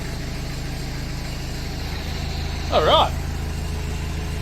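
An engine of a long-unused machine idles inside a shed, a steady low mechanical rumble running in the background throughout while a person briefly speaks near the end.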